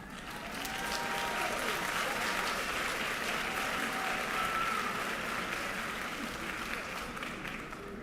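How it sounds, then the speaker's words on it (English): Steady, full applause from a graduation ceremony audience, a dense wash of clapping that holds at even loudness for several seconds. "Give them a real good round of applause."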